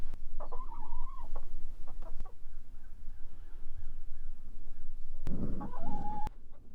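Chickens cluck and call in short bursts near a coop on a winter day, fairly close over a low background rumble, with a brief louder squawk toward the end.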